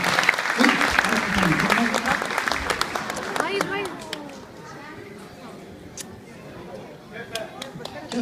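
Audience applause for a student at a religious celebration program, strong at first and then thinning to scattered claps under voices and chatter.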